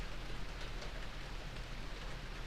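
Heavy rain pours steadily during a thunderstorm, a dense, even hiss of falling water with no voices and no distinct thunderclaps.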